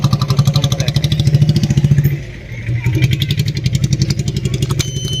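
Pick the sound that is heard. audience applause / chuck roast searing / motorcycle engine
motorcycle engine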